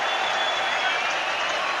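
A dense roar of cheering and applause fills a packed rugby stadium, steady and unbroken, with an announcer's voice partly under the noise.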